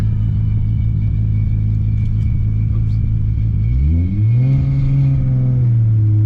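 A loud 900 HP tuned R32 Skyline GT-R engine drones low and steady, then revs up with a rising pitch near the end; a voice speaks briefly.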